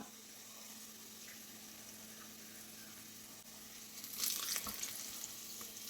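Onions and chili flakes fry in a pan with a faint, continuous sizzle, then a brief louder scrape and crackle as they are stirred near the end.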